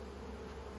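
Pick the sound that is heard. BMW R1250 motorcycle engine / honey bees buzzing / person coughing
honey bees buzzing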